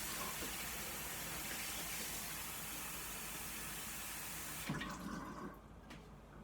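Hot water runs steadily from a kitchen sink tap in a home kitchen, a continuous broadband rush for several seconds that cuts off abruptly, leaving faint drips and room noise.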